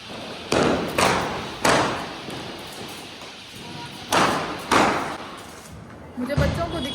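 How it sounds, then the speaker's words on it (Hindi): Diwali firecrackers going off outdoors, several sharp loud bangs in irregular succession, each with a short decaying tail, a voice talking at the end. "ऐसे ब्लाउज को पड़ा है, पटाखे छोड़ लेते हैं।"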